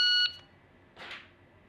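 A shot timer gives a single sharp electronic beep at the start of a 10-round shooting skill check, followed by a short, softer burst of noise. No one speaks.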